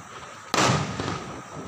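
Diwali fireworks and firecrackers burst outdoors with one loud sudden bang, followed by a crackling, hissing tail that fades slowly over steady background noise.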